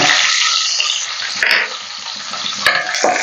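Garlic cloves and small shallots hit hot oil in a pan and fry with a loud, close, hissing sizzle that swells and settles in bursts, with some stirring and no talking.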